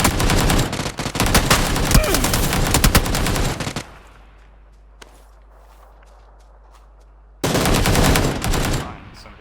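Gunfire in the battle royale game PUBG, long loud bursts of rapid automatic shots, then a sudden near-silent lull of a few seconds before another heavy burst kicks in.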